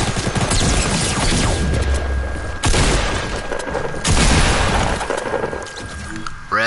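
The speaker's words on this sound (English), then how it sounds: "Why are they all shooting at me, bro? These ones got rocket launchers?" Gunfire and rocket explosions in a PS4 shooter game: dense bursts of shots with heavy booms near 2.7 and 4 seconds, loud and continuous, with a player's voice faintly mixed in.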